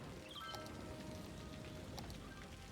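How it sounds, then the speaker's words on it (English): Steady rain in the background, a soft continuous patter with scattered droplet ticks, faint and even throughout with no voices. "Hopefully you'll find the rain in the background calming as well, if you can hear it anyway."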